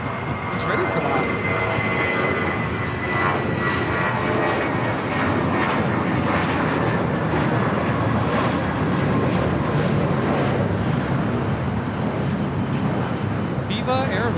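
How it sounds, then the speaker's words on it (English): A Viva Airbus A320 in Raiders livery takes off from LAX, bound for Guadalajara, its engines roaring loudly and continuously as it climbs past, with voices heard faintly underneath. "Viva Airbus 511 taking off to Guadalajara on the A320 in the Raiders livery."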